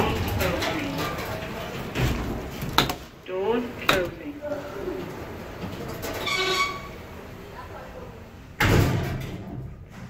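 Oakland lift doors from 2002 at ground floor of Birmingham International concourse slide open and closed with clunks and rumbling, a sharp thud near the end, heard close and loud.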